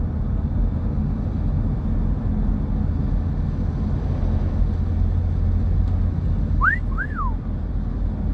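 A car drives south along the Oregon coast near mile marker 204 by Elbow Lake, giving a steady, loud rumble of road and engine noise that runs throughout, with two short rising whistle-like chirps near the end.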